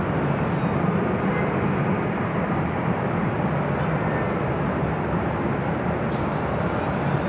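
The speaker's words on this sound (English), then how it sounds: "Up next, Southwest Airlines Flight 240 heading to Sacramento" A Southwest Airlines Boeing 737-700 takes off at LAX, a steady broad jet roar filling the air continuously, loud and sustained without talk.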